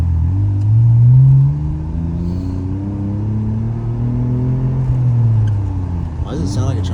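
A Volkswagen Jetta engine idles and revs up and down in a deep, loud, close rumble, with rising and falling tones. A voice speaks briefly near the end.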